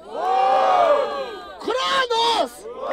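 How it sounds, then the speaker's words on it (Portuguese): Loud crowd roaring and whooping at a rap battle in Barueri, São Paulo, with raised voices and yells in rising bursts, close and energetic. "Barulho para as rimas de Vini!"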